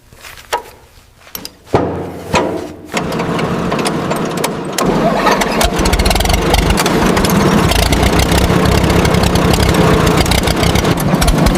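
A restored 1930s Arnold steamboat's engine starts with a few uneven knocks, then settles into a steady, loud, continuous run that fills the rest of the clip with no talk.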